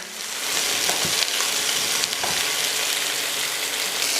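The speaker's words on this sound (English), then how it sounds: "If you listen this noise, it's frying." Beef pieces sizzle steadily in a hot pan while being browned for an authentic French beef stew, a close, even crackling hiss with a few soft stirring knocks and no talking.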